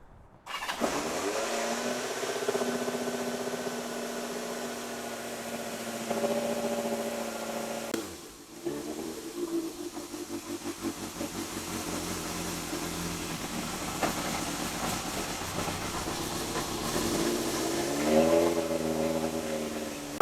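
A Kawasaki Z650 motorcycle engine, under crash repair, starts and idles, then revs up and down in several blips over about twenty seconds, heard nearby at moderate volume with a cold, uneven idle between the revs.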